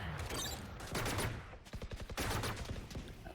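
Valorant match gunfire, with Operator sniper rounds fired through smoke: loud bursts of overlapping shots in quick succession with brief gaps, close and dense.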